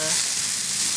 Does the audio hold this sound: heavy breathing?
no